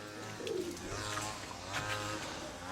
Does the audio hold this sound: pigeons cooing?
yes